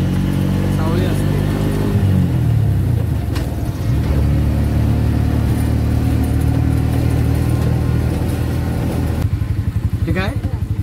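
An auto rickshaw engine drones steadily and close while driving along a tree-shaded road, with a brief rev near the end and a voice talking over the engine.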